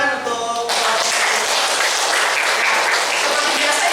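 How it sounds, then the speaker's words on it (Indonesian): A classroom of students applauds a presenting group, loud continuous clapping that starts abruptly after a brief tonal sound and holds steady, close and dense, for several seconds. "Beri tepuk tangan untuk"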